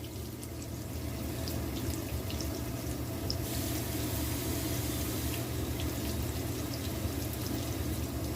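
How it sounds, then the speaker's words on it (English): Water is poured steadily into a pan for several seconds, a constant close wash of liquid with no voices. "I'm gonna add water."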